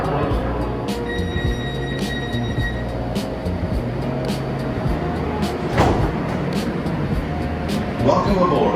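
A Metro K Line light rail train rolls on after its doors close, a steady low rumble of wheels and motors with brief metallic squeals and clicks, loud and close from inside the car.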